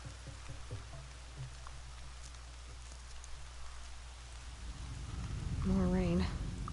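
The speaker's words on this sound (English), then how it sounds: "More rain." Steady rainfall in the video game Horizon Zero Dawn, a soft continuous patter with faint distant rumbles, and a character's voice speaking near the end over the rain.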